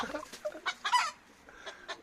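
A rooster or hen clucks close by in a run of short, choppy calls, with brief pauses between bursts.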